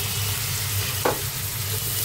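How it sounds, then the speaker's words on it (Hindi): Ginger garlic paste sautés with onions in a pan for pasta, giving a steady, close frying hiss. A single brief utensil clatter sounds about halfway through. "और इसको भी अच्छी तरीके से सौते कर लेंगे"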